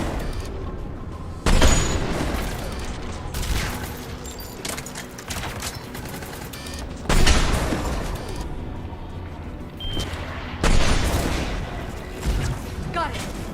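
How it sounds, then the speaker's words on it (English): Anti-aircraft guns pound away in the video game Mass Effect 3, heavy booming volleys rising every few seconds over a constant din of battle gunfire, loud and dense, with voices partly mixed in. "There, the anti-aircraft guns."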